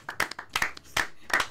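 A handful of people clap at a school talk show in Cirebon, giving several short, separate bursts of hand claps rather than sustained applause, fairly close and moderately loud.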